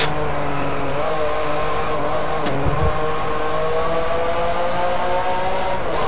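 A Ferrari F50 engine roars steadily in Driveclub, a loud, sustained high-pitched wail that holds an even drone with slight pitch shifts and no one talking.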